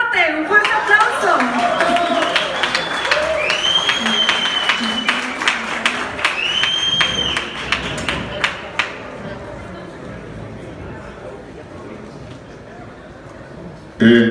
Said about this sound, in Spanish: Lara, don Raúl Campos, los Tigres del Norte, un fuerte aplauso.